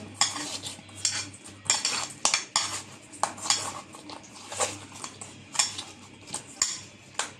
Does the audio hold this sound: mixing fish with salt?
yes